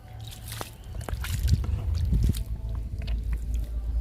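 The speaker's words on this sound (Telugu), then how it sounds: "చామంతి మొక్కలకి వాటర్ ఇద్దాము" Water pours and sloshes onto potted chrysanthemum plants, a soft splashing trickle close by over a low background rumble, with no one talking.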